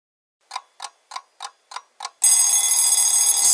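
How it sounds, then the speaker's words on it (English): A bedside alarm clock ringing loudly and without a break, right after six soft, evenly spaced ticks, filling the room until the end. "Spid's alarm clock went off rudely"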